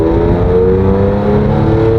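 Supercharged car on its stock exhaust accelerating hard, a loud, close engine drone whose pitch climbs steadily under the throttle, with a supercharger whir layered over the exhaust note and no voices.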